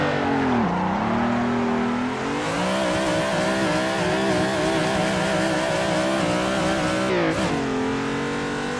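A car engine revs hard while drifting in Assetto Corsa, holding a loud, continuous high-pitched whine that rises and dips with gear and throttle changes, plus a brief squealing swoop near the end.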